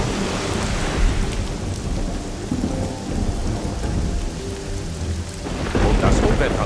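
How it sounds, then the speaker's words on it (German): A thunderstorm with heavy rain from the video game Risen 2: Dark Waters, with a steady dense downpour and deep rolling thunder swelling louder near the end, no voices. "Und das Unwetter macht es mir keine Sorgen, sondern um das, was es mit sich bringt."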